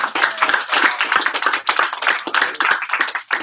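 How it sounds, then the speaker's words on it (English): A small group applauds a prize winner at a sales challenge week event, with brisk, close hand clapping in a steady rapid patter lasting the whole moment. "So let's give her a big round of applause."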